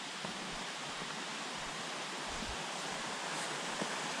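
Creek water flows in a steady, soft, even rush beside a river in the early morning, with no talking and no other clear sounds over it.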